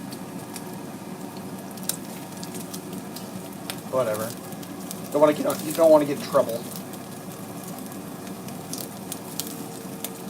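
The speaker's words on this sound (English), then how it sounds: "I feel like I'm just frying fat up right now. I'm cooking my fat chunks here." Bacon fat chunks frying in a pan give a soft, steady sizzle with a few louder crackling bursts in the middle, while a person talks over it.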